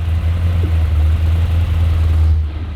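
A 2006 Corvette with a cammed, naturally aspirated built engine rumbles loudly up close, a heavy low idle with a choppy, uneven pulse that eases off at the end.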